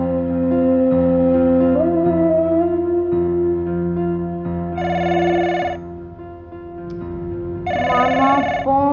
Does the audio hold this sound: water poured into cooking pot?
no